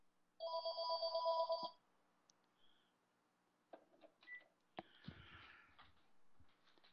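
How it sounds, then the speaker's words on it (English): A telephone rings in one bright electronic burst lasting just over a second, then a quiet room follows with a few soft knocks and rustles. "I apologize for the phone."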